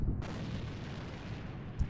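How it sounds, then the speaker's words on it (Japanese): A grenade explosion in a shooter video game, a sudden loud blast followed by a brief rumbling decay and a small thump near the end. "手榴弾投擲。"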